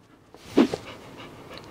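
A dog pants briefly and sharply at close range while climbing into the boot of a Genesis GV70 Electric, with quiet car interior surroundings and no talk.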